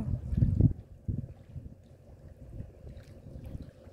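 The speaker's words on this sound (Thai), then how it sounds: "ขาเจ้าเอาเรือมาลงเสียงดัง" Heavy low thuds and a hollow knock at the start as a boat drops into water by the shore in Finland, then lapping and rumbling outdoors with some wind.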